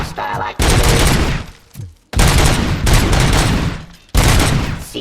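Heavy gunfire from Robocop Rogue City, loud sustained bursts of automatic shots in three long barrages separated by brief pauses, close and booming.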